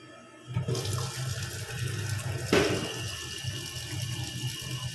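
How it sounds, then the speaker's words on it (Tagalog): Water rushes and gurgles steadily down a freshly unclogged sink drain, with a brief louder splash partway through; close and continuous, no voices. "Ayan, diretso na rin yung tubig."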